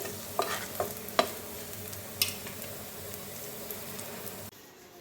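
Garlic frying in oil in a pan for dal bharta, a close, steady sizzle with a few sharp scraping stirs near the start, then cutting off abruptly near the end. No one speaks.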